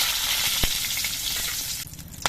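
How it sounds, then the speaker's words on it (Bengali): Bay leaves, two dried chillies and whole garam masala fry in hot oil, giving a loud, steady close-up sizzle with one brief knock partway through. "এই তেলের মধ্যে আমি দিয়ে দিচ্ছি দুটো তেজপাতা দুটো শুকনো লঙ্কা কয়েকটা গোটা গরম মশলা"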